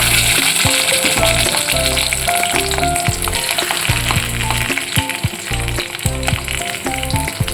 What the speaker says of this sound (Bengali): এবার এক এক করে কলা পাতায় মোড়া পাতুরিগুলো এইভাবে তেলের মধ্যে আমি দিয়ে দেবো